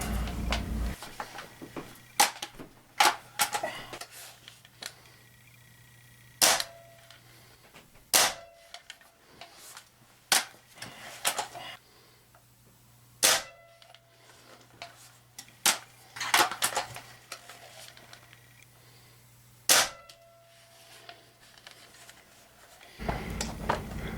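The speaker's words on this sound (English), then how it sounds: "the rifle makes a very loud twang when you fire" Hatsan 85 Sniper Vortex .22 air rifle with a hollow stock fired repeatedly: about eight sharp, loud shots, each a ringing metallic twang, spaced a few seconds apart, with quieter handling clicks and rattles between them, close up.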